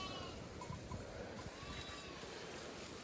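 Sheep bleating while grazing under a tall tree at a mobile hillside herding camp, a few soft calls rising over steady outdoor background noise, no one talking.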